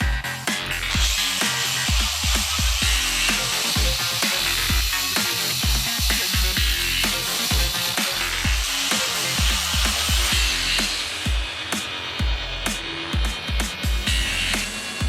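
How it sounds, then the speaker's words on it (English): An angle grinder cuts a protective cover, a harsh, continuous grinding noise with rhythmic scraping pulses throughout, loud and close, with no voices. "Measure the required length of the protective cover and cut the end using an angle grinder."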